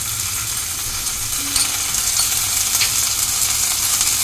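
Ginger paste dropping into hot oil spiced with chillies, cardamom and cinnamon, giving a steady close frying sizzle with a brief clink, no talk.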